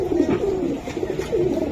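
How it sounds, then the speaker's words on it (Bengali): Racing pigeons, white grizzle racers kept at a pigeon farm, coo softly and repeatedly at close range in low rolling calls, with no talking. "এই যে দেখেন কবুতর ভাই"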